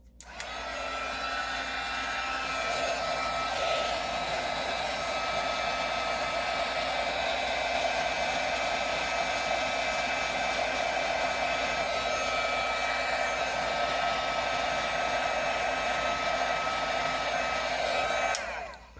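Heat embossing tool blowing hot air onto a holiday card, a steady, loud, continuous whirring hiss that runs unbroken for nearly the whole stretch, with no talking.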